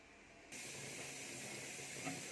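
Steam hisses steadily from couscous in a steamer pot, a faint, continuous airy rush that swells slightly after the first half second and carries on evenly.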